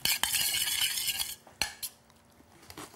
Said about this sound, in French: on va la bien mélanger